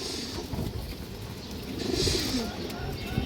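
Pigeon chicks coo softly in a loft, a low murmur half buried in dense background hiss and rustling.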